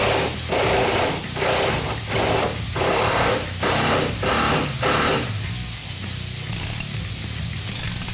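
A ratchet tightens shock hardware during a ReadyLIFT lift kit install with SST3000 shocks on a 2015–2018 F-150 4WD. About eight rhythmic bursts of close, loud clicking come one after another, then a quieter steady stretch.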